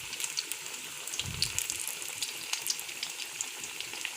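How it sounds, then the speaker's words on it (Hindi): Lahori-style fish pieces deep frying in hot oil, giving a steady, even hiss and crackle throughout with no pauses and no voices. "डीप फ्राई कर रहे हैं हम"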